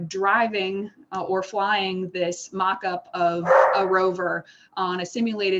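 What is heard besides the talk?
dogs barking in the background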